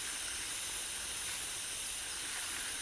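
A hose sprays water onto potted jalapeno and banana pepper plants in a garden, making a steady, close hiss that holds unbroken and fairly loud throughout.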